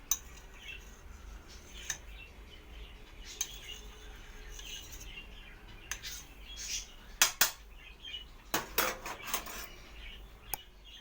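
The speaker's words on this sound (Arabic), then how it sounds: "هقطع البصلايه عليها." A knife cuts an onion on a board with a few scattered light taps, then a quick cluster of sharp close cuts near the end, over a quiet kitchen background.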